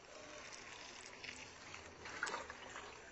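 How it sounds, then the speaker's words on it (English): Water trickles softly onto dry-season cabbage crops in a garden bed: a faint, steady pour and dribble that stays low and continuous throughout. "Then we water."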